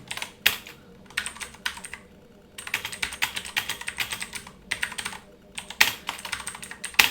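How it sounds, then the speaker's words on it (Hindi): Hindi text is typed on a computer keyboard in a typing tutor, with quick bursts of key clicks separated by short pauses and a few sharper isolated taps, close and clear with no talking. "तो इस तरह से हमने हिंदी टाइपिंग किया"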